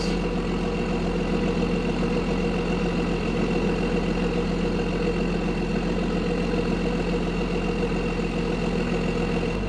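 A truck with a 12 valve Cummins diesel engine runs steadily at a constant heavy rumble, close and loud throughout, with no voices heard.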